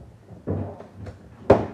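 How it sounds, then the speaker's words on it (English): A door in a house is opened with a soft thud of the latch followed by a sharper knock or bump, close and fairly loud, with no talk. "That door opens."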